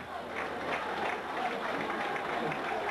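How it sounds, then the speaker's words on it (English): Football crowd at Kingsmeadow applauding from behind both goals as Kingstonians and Sutton United come out for an FA Umbro Trophy semi-final second leg, a steady wash of clapping and crowd noise heard from a distance, with voices mixed in. "Rapturous applause from behind both goals"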